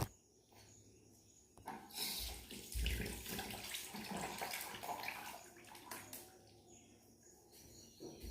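Tap water runs into a sink while a toothbrush is rinsed, a soft steady splashing gush that swells in the middle, faint overall, with a bird chirping in the background.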